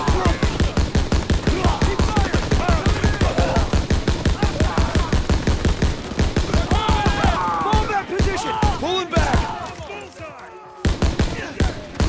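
Rapid rhythmic machine-gun fire in a Call of Duty battle in Germany, loud and steady bursts with scattered shots and explosions, shouted voices mixed underneath.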